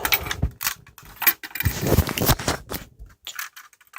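Clattering mechanical clicks and metallic rattles as a coin drops into a Lego marble machine and small parts move, in short bursts with pauses.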